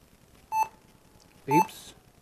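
An HP laptop powered up with no RAM installed gives two short electronic beeps about a second apart, clear and close in a quiet room.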